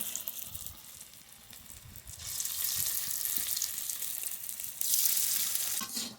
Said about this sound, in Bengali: এই বড়া ভাজার সময় ঢেকে ঢেকে আস্তে আস্তে জাল দিয়ে ভাজতে হবে